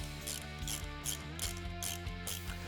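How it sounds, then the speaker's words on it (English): A ratchet wrench clicks rapidly and rhythmically while a bolt on an engine guard mounting bracket is tightened down, the close metallic ratcheting running steadily throughout. "So we're gonna go ahead and tighten this all the way down."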